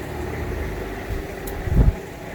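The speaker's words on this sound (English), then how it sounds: "Sorry about the fan in the background" A shop fan running in the background gives a steady, even whooshing hum throughout, low and constant, with a brief faint bump near the end and no talking.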